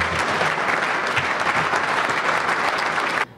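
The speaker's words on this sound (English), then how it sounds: "please join me in a wonderful round of applause for Mr. Tony Pomerleau" Audience applause for Tony Pomerleau, a dense, steady round of clapping from a crowd that stays loud for about three seconds before cutting off abruptly.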